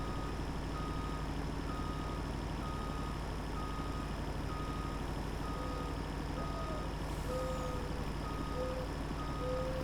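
A milk tanker truck reverses on a farm, its backup alarm beeping in a slow, regular series over a low engine drone, heard from a distance and fairly faint.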